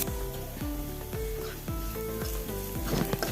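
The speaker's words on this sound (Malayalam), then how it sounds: "രണ്ട് സവോള അരിഞ്ഞ് ചേർത്ത് കൊടുക്കുക നല്ലപോലെ ഇളക്കി ഒന്ന് വാടി വരുമ്പം" Chopped onions sizzle loudly in a hot pan while a spoon stirs them in regular strokes, scraping the metal about every half second. The frying noise stays close and continuous.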